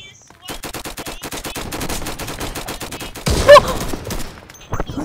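Rapid automatic gunfire from the Valentine's gun in the video game Flag Wars, a dense stream of sharp shots for several seconds, loud and close, ending in a heavier blast.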